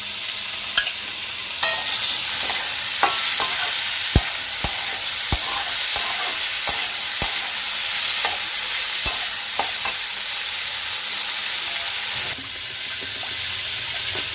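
Dal is tipped into a pressure cooker with a little water and stirred, giving a steady wet hiss broken by repeated sharp clinks and scrapes of a spoon against the metal pot.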